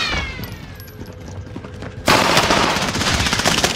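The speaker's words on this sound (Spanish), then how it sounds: "¡Me disparan!" Gunfire in the Warzone video game starts as quieter background shots, then a loud burst of rapid automatic fire breaks in and keeps rattling close by.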